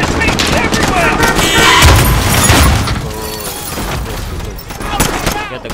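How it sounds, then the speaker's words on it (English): Loud gunfire and booming blasts from a secondary detonation explosion crash through a Call of Duty Modern Warfare battle, continuous and chaotic, with shouting voices mixed into the din. "Secondary detonation! Secondary detonation!"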